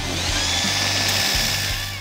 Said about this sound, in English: go over to the belt sander